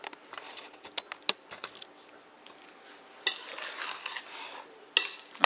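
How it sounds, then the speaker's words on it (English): Spoon stirring a bowl of leftover holiday turkey salad with mayonnaise, soft wet scraping and patting with occasional sharp clinks against the bowl, close and moderately quiet. "as I'm stirring, it's breaking the meat up"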